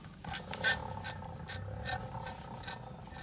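A manure-removal gearbox at an outdoor agricultural market turns over with a steady, close mechanical clicking and ratcheting, with light rhythmic knocks of the gears meshing.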